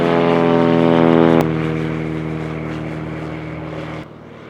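Airplane engine running at an airstrip, a steady loud drone with strong harmonic tones that cuts down abruptly partway, then continues as a lower, rougher hum.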